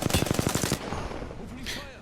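Rapid automatic gunfire in a video game, a burst of about ten sharp close shots in quick rhythm that stops abruptly, followed by a faint ringing tail.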